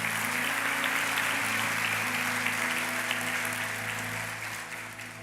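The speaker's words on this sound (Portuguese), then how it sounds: "Aplauda Jesus." A church congregation applauds during a service, dense sustained clapping filling the room with a steady hum underneath, fading gradually near the end.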